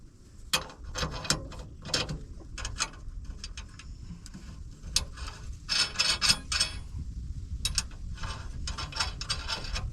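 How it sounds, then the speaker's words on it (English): A hand ratchet with a 3/4-inch socket loosens 1/2-by-20 nuts on the U-bolts of a 2001 Mazda B3000 that has sat for 18 months. Up close it gives bursts of rapid clicking, then pauses and more ratcheting. "Most 1/2-inch nuts fit a 3/4-inch socket like I've got in my hand"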